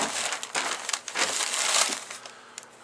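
AK-74 rifle parts, a triangle sidefolder kit, are dumped out of a heavy plastic bag, giving close, loud crinkling and rustling of plastic with the clatter of metal pieces, all within about three seconds.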